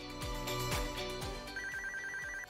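A MAX video intercom monitor rings after a call is placed from the entry panel, giving a repeating electronic ringtone with steady tonal pulses and a higher warbling tone later, clear and close with no talking.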